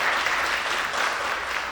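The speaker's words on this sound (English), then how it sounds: "a round of applause for Sean." Steady applause from a crowd at a live business product launch event, dense and even throughout the short stretch, with no clear voices standing out.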